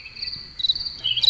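Crickets chirp in a steady, high, shimmering trill that swells slightly partway through, fairly faint and continuous, with no voices.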